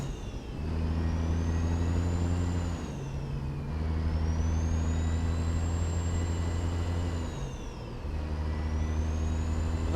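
A 500 hp Caterpillar diesel truck engine pulls hard through a run of gears, its steady low drone rising in pitch between brief dips at each shift, heard up close from inside the cab.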